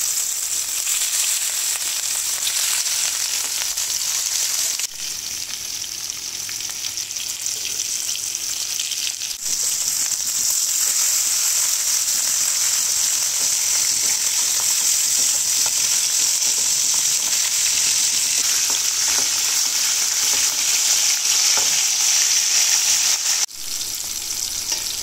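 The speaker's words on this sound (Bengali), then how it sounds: "আমার মাছ ভাজা হয়ে গেছে" Marinated rohu fish pieces, rubbed with turmeric and salt, fry in hot oil with a steady, loud, continuous sizzle that holds for the whole stretch, with occasional faint stirring and no voices.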